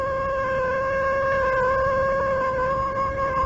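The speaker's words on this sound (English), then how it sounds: "I told you it was a lucky cat." A single long, sustained cat meow with a clear steady tone, close and loud, holding almost unbroken for a few seconds over a faint background hiss, in an old radio drama.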